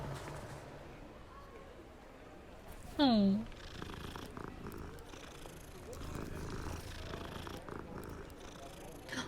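Cat purring in the video game Hogwarts Legacy, a soft low rumble with a brief sharp meow-like call partway through, under quiet game ambience and occasional talk.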